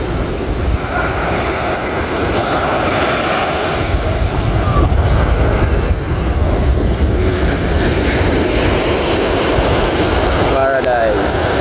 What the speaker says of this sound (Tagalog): malakas nga po yung hangin at saka po yung alon.